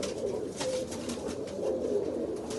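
Pigeons in a loft in Punjab, India, coo softly and steadily at close range over a low hum, with a few brief wing or shuffling sounds and no talking.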